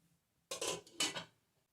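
A lid set on a pot of dried beans on the stove, two quick close metallic clanks in succession, then quiet.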